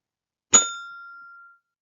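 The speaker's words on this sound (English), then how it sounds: "I'm going to ring the chime bar again." A single chime bar struck once during a classroom breathing exercise, giving a bright metallic ding with a clear ringing tone that rings on for about a second, alone in silence.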